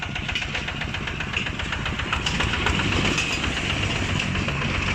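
A Kubota ZT155 diesel engine runs steadily nearby, a dense clattering chug with a fast, even knock that swells slightly louder partway through.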